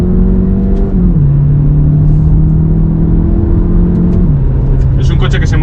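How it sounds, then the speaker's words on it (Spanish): A Skoda Kodiaq 1.5 TSI SUV engine drones loudly from inside the cabin, its pitch stepping down twice in a row as gears are dropped, with someone talking over it. "Vamos a bajar un par de marchas."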